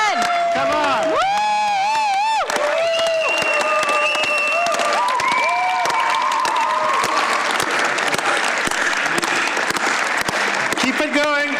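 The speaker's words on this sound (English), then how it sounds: "I need you guys to clap as loud as you can, and we can keep on clapping until they come back." A large convention-hall audience claps hard and cheers at a general assembly, with whoops and shouts over dense clapping while an amplified voice talks and sings over the crowd.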